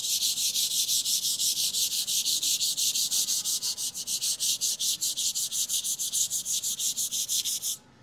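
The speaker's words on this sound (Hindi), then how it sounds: "इस तरह से हम जो ग्रेन जा रहे हैं ना उसी डायरेक्शन में घिस के इसे स्मूथ कर लेते हैं" Sandpaper worked by hand along the grain of puttied plywood, a steady rasping of quick back-and-forth strokes that runs continuously, close and loud, then stops abruptly near the end.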